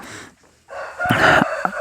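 A rooster at a poultry sale near Tarikere, Shivamogga, crows once close by, a loud drawn-out call after a brief quiet gap.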